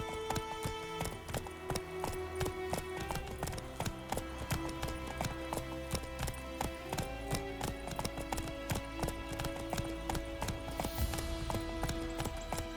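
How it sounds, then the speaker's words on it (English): Roach, a horse in the video game The Witcher 3, gallops with fast, rhythmic clip-clopping hoofbeats that run continuously over a tonal background layer. "Run, Roach."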